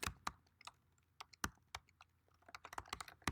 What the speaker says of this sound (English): Type in our name.